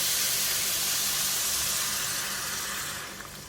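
Chicken stock poured into a hot pan for cream of mushroom soup, a loud, steady hiss and sizzle that fills the clip and fades slightly toward the end.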